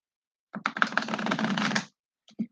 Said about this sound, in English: I'm going to shuffle 2 more times and then we'll get your cards